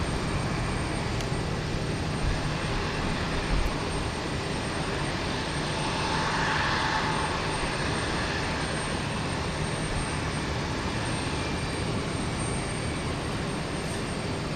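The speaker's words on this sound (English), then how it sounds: "So that's 757 off to Tegucigalpa" A Boeing 757 jet departs Houston Intercontinental, its engines roaring loud and steady throughout, with a broad sustained rumble and a brief swell midway, no voices.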